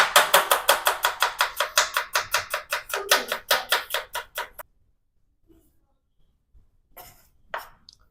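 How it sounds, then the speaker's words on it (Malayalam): Green chillies, ginger and two onions chopped on a board with a knife in a rapid, even run of about two dozen close, crisp strokes. Then a pause follows, with a few faint knocks. "നമുക്ക് കുറച്ച് പച്ചമുളകും, ഇത്ര ഇഞ്ചിയും 2 സബോളയും നമുക്ക് കട്ട് ചെയ്തെടുക്കാം."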